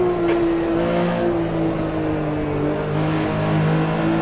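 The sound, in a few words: Porsche 911 RSR 3.0 engine in Automobilista 2 racing game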